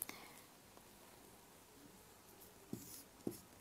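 A pen writes an equation on paper during a physics lesson, faint and close with soft scratching strokes and a few sharper taps near the end, in a quiet room with no talk.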